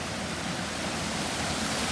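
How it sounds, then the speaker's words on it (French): A small stream runs through the garden of Sensoji temple in Asakusa, Tokyo, a soft, steady rush of water with no breaks. "bien sûr une petite rivière, de l'eau qui est très présente"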